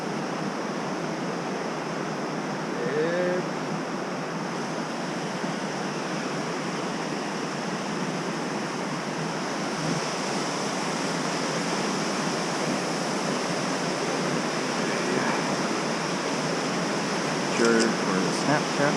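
The North Fork Skokomish River rushes steadily beneath a new hiking bridge, a broad continuous roar of flowing water that stays loud and even throughout, with faint voices briefly audible over it.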